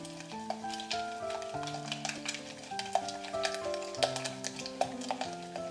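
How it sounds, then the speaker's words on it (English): Eggs and granulated sugar are whisked in a bowl, producing a quick, steady run of light clinking and tapping strokes at moderate volume over a soft musical background, with no talking. "We're going to whisk this till we break up the eggs and they mix with the sugar."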